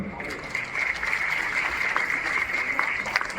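A crowd applauds at a public loan-award ceremony with the CM at Gorakhnath Mandir in Gorakhpur, giving a steady wash of distant clapping under a sustained tone, with a voice faintly over it.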